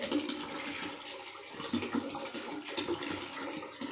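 Liquid is poured while mixing homemade lemon dish wash liquid, a steady gurgling, splashing stream with small surges, heard close with no talk.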